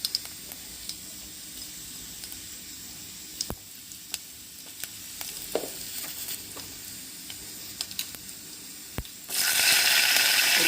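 Cumin seeds and asafoetida frying in hot oil in a pan, a low continuous sizzle with scattered sharp pops and ticks, then a louder hiss near the end.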